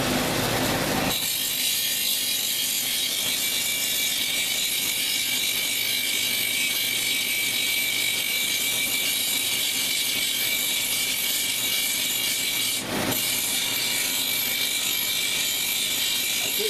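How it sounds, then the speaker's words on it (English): A stone cabochon dome being ground and shaped on a lapidary wheel, a steady continuous grinding hiss that runs the whole time with a brief interruption near the end, close and loud with no talking. "Changing the way that I'm grinding. You see now I'm turning the stone."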